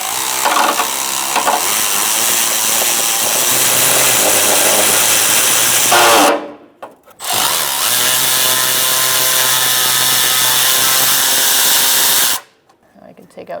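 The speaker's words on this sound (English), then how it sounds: "a swivel on my power tool ratchet. I crack it loose first." A power tool ratchet with a swivel runs loud and continuous to crack loose a rusty, oil-soaked bolt on a 2007-2012 Nissan Altima power steering line, two long whirring bursts separated by a brief stop.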